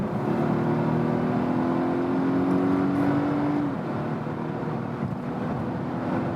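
Volvo estate in hybrid mode accelerating at high speed toward 140 km/h, a steady loud road and engine drone with a rising whine that climbs, then fades around the fourth second, no talking.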